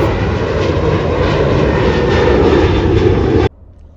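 An aircraft engine roaring loudly at an airport, a dense steady rumble that stops abruptly near the end, leaving quiet background.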